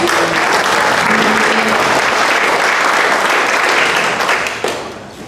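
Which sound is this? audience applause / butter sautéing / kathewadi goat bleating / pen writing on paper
audience applause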